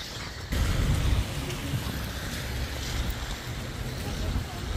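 Steady rain falls during an early-morning walk before dawn prayers, a dense continuous hiss of drops on surfaces that swells abruptly after the first half-second and stays loud and even throughout.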